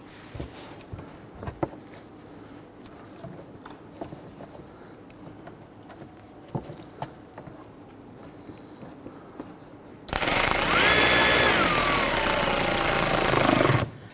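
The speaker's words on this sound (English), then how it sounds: "You can actually hear the impact driver bogging down a little bit as it seats" An impact driver drives screws into the inner fender liner duct work of a Dodge Charger with a 3.6L V6. Quiet handling noises come first, then a loud, close whirring burst of about four seconds that bogs down slightly as the screws seat.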